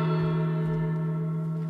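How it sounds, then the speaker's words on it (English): A single sustained gong tone rings out loudly with a strong steady hum and layered overtones, decaying slowly across the whole stretch with no voices. "then the gong sounded"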